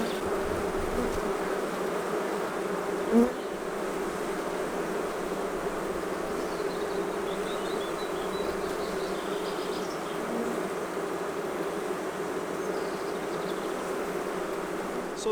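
Honey bees buzz steadily around an open hive during a split, a dense continuous drone close by, with one brief knock partway through and no talking.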